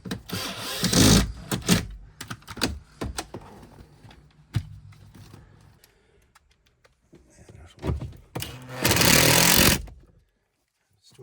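Cordless drill driving two screws into a replacement aux port on a 2012–2019 Nissan Frontier, with short whirring bursts that stop and start, the last long burst loud and close.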